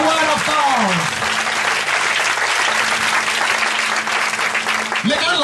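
A church congregation at a sermon breaks into sustained, dense clapping that fills the room, with a preacher's voice heard briefly at the start and end.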